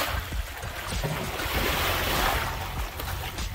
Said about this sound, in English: I hear that water bouncing up against there.